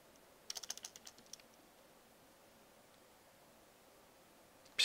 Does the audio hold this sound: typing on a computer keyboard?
yes